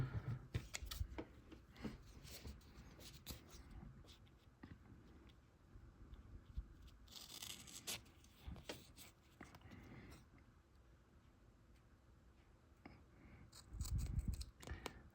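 Scissors snip through double-sided tape at a workbench during a Game Boy Pocket amplifier install, a series of short, close, irregular cuts and handling rustles with louder clicks near the start and end.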